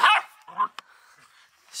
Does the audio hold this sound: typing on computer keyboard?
no